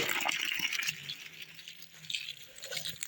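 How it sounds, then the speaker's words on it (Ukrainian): Water running from a garden hose onto dry soil where tomatoes are being planted, a steady hissing gush with faint rattles, fairly quiet, with no talk. "Включила воду."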